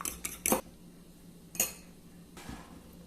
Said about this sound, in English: I'm using an egg to coat the deviled eggs. So I'll just lightly beat it up.